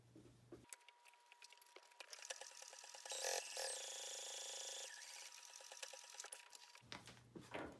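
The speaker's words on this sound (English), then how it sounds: "you're going to sew these 2 top edges together like that" A sewing machine stitches two top edges of a fabric hand sanitizer pouch together, a steady rapid mechanical whir with a rattling rhythm, close and fairly quiet, starting and stopping cleanly.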